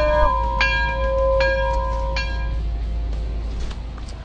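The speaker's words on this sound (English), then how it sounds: "Somebody ring the bell!" A bell rings three times in steady succession, each clear metallic strike fading slowly over a low constant rumble.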